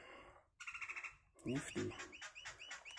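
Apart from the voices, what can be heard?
bird calling in the background outside a shed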